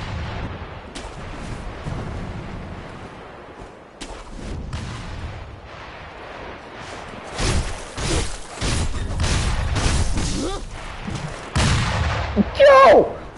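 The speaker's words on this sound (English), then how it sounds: "He point blanked me with a shotgun" Shotgun blasts in the video game Sekiro, loud booming shots going off at close range in bursts amid combat noise, with someone talking excitedly over them.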